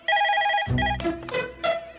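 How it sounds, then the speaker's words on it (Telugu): A phone ringing with a repeating electronic tone, partly overlapped by a deeper rumbling sound midway. "రింగ్ అవుతుందిరా."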